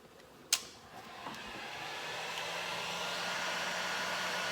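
Heat gun blowing hot air over beeswax cappings on honeycomb, a steady quiet whooshing hum that rises slightly after a brief click at the start.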